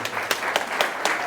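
Audience clapping to welcome a guest at a Sri Thyagaraja Swamy Aradhana music ceremony, steady moderate applause with a few sharper claps standing out.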